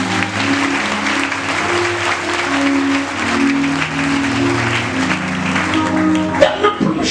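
A church congregation claps and cheers in praise of the Holy Spirit during a healing service. The applause runs steadily for about seven seconds over sustained organ or keyboard chords, with some voices mixed in.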